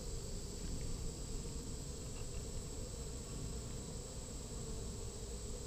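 Honey bees in an open, healthy hive during a frame inspection, giving a steady, even buzzing drone that holds at a constant level throughout.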